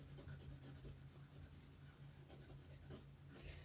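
A pencil point scratches across paper in quick repeated strokes, close and fairly quiet, with a dry rhythmic rasp and a steady low hum underneath.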